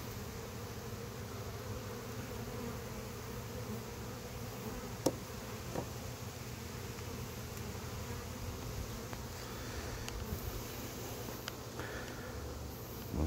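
Honeybees buzzing at a hive: a dense, continuous low drone that holds steady throughout, with a few faint ticks and knocks on top and no voices.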